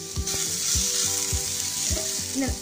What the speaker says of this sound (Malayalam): ഈ സവോള ഇപ്പോൾ നന്നായിട്ട് വഴന്നിട്ടുണ്ട്.